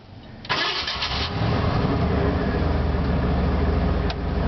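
A 1989 Ford F-150 pickup truck is started outdoors on a windy day; the starter cranks briefly, the engine catches with a loud burst, then settles into a steady, rumbling idle close by.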